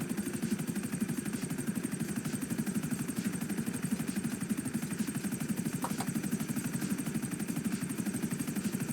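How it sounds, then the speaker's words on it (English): A failing helicopter in the GTA V video game gives off a steady, rapid rotor pulse with a constant engine drone, even and unbroken throughout, fairly quiet in the mix. "The helicopter's dying."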